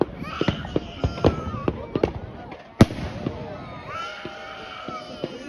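Bonfire night fireworks crackle and pop in rapid bursts with sharp bangs, one loud report standing out, while people talk nearby.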